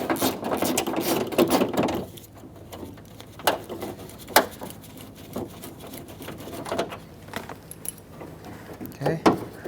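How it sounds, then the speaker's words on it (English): A 10mm socket ratchet loosens a bolt inside the front left door of a Chevy Express 3500 van, giving a few scattered metallic clicks and clunks, close and moderately loud, with no talk. "With a 10mm socket, I'm going to unbolt this bolt right here."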